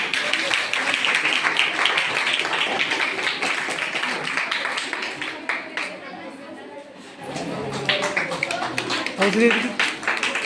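An audience at a school prize ceremony claps for a prize winner, with dense applause and chatter from a hall, a brief lull in the middle, then clapping again under talk.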